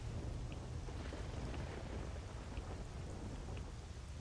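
Steady rain pours at night in S.T.A.L.K.E.R. Shadow of Chernobyl, a continuous dense hiss with a low rumble of thunder underneath and faint periodic ticks, no voices.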